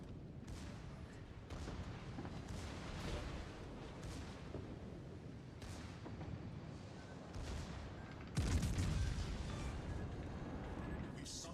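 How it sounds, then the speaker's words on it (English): Naval gunfire in World of Warships Legends, with repeated heavy booming salvos and rumbling explosions in a dense, continuous battle din, one louder blast near the end. "it's kind of like everyone in the game is shooting at me"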